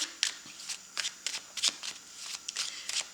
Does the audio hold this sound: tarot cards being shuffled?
yes